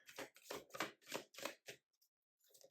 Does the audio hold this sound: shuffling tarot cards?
yes